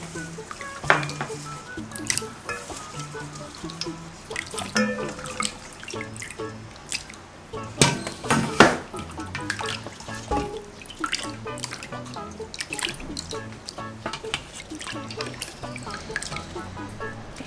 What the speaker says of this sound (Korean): 여기다가 이렇게 헹궈줄게요. 깨끗이 헹궈주시면 돼요.